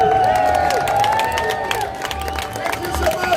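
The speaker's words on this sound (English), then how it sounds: "please cheer and clap really loud" A crowd at the EPCOT Flower and Garden Festival cheering and whooping loudly with scattered clapping, a dense continuous roar close by that carries on for the whole stretch.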